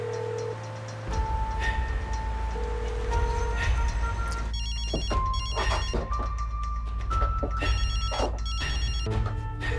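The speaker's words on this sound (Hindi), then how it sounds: "खुदा के लिए फोन उठाओ मेरा।" A mobile phone's melodic ringtone rings on and on, loud and close, over a running background bed, with intermittent thumps and clicks mixed in.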